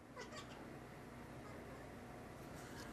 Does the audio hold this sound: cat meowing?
yes